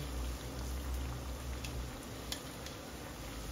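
Dal vada frying in oil in a pan, a steady dense sizzle with faint crackles and ticks throughout, close and even, no talk.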